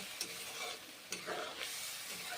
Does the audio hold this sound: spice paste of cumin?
yes